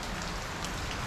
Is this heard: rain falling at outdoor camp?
yes